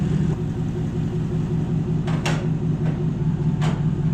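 A Toyota Hilux engine idles with a steady low rumble, broken by a few short bright clicks or clanks.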